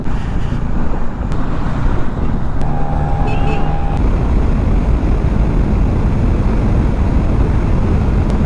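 A motorbike cruises steadily along an open highway, with a continuous loud engine drone and heavy wind rumble throughout and a brief tonal hum in the middle.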